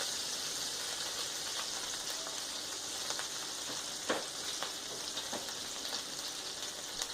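A burger patty fries on a hot grill with a steady, dense sizzle and crackle throughout, joined by a few brief scraping knocks as it is flipped.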